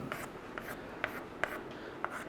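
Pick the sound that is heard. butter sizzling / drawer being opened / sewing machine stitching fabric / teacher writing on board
teacher writing on board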